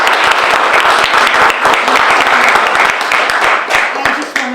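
A room of people at a chamber community outreach event clapping for a guest city manager, loud and close, a sustained burst of many hands with individual claps audible, a few voices faintly underneath.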